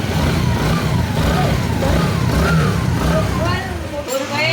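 Close by, the repaired Bajaj Platina ES motorcycle engine hums steadily after piston ring work, with slight rises and falls in revs, while someone talks over it; the engine cuts off near the end.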